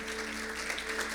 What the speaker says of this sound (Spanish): darle un aplauso fuerte, el mejor aplauso que pueda